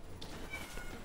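A cat meows once, close and fairly soft, against a steady background of game sound, with no talking.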